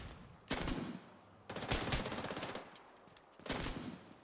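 Three bursts of rapid automatic gunfire in a video game, each lasting about a second with pauses between, loud and close with no talking over them.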